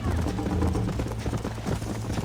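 A horse gallops in Red Dead Redemption, with rapid hoofbeats over a dense, loud bed of game sound, steady and close throughout the stretch.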